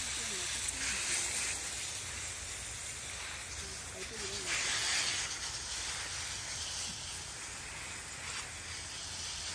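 Water sprays steadily from a hose over a home vegetable garden in the USA at dusk, a continuous soft hiss running the whole time with faint speech in the background.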